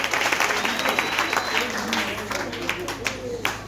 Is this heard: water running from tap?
no